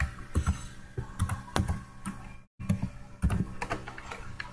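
Code is typed on a computer keyboard while solving a C programming exercise, producing steady clusters of close, soft key clacks that pause once for a moment before carrying on.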